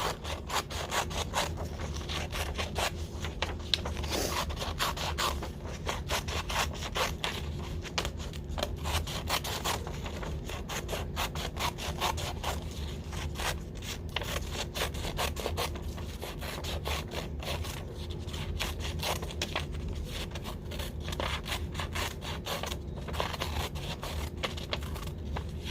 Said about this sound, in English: I'm going to cut on my line.